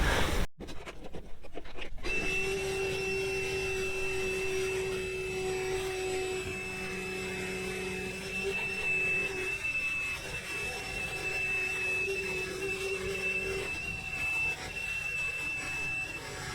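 A wet vac runs steadily, sucking up spilled diesel fuel inside a Chieftain tank, its loud droning whine holding with high whistling tones after a brief clatter at the start.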